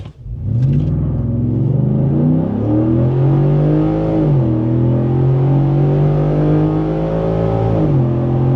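A 2024 Ford F150 with a Pedal Commander throttle controller in Sport Plus accelerates hard from a launch, its engine roaring loudly and steadily with rising pitch and brief dips at each gear shift, close and continuous throughout.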